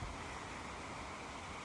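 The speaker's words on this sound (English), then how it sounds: "with a beautiful stream flowing in the background" Forest stream flowing gently, a faint, even watery rush that holds steady throughout with no other sounds over it.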